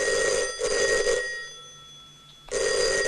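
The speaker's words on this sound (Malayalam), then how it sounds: "ആ ഫോൺ അറ്റൻഡ് ചെയ്യണോ?" Telephone ringing indoors in a palace setting: two loud electronic bell bursts separated by a brief pause, close and clear with no talking.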